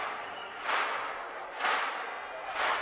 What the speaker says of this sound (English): and these ambient, very big kind of stadium claps.